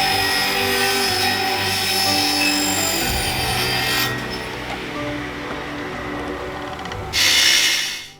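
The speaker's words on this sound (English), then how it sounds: "you can see him here cutting down sections of aluminium depending on the customer's requirements" A saw cuts sections of aluminium window frame in a narrowboat window workshop, giving a continuous harsh grinding whine with a shift partway through and a brief louder burst near the end.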